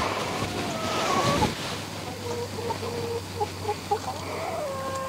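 Hens cluck and chatter around a covered chicken feeder, giving a series of short, moderately close calls over a low steady background hum.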